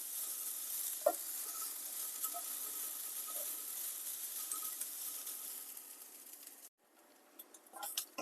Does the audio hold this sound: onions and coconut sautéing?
yes